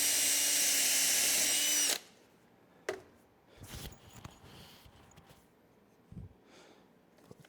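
A power drill runs loudly and steadily for about two seconds while drilling holes in a wooden outboard shaper fence, then stops, followed by quieter handling and shuffling sounds.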